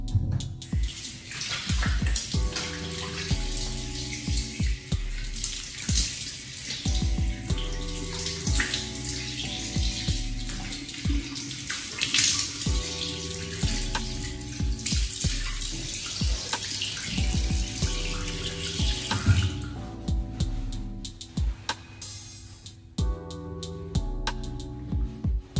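Running tap water splashes continuously as a face is rinsed during a morning skincare routine, close and steady with irregular splashing bursts and a short pause near the end.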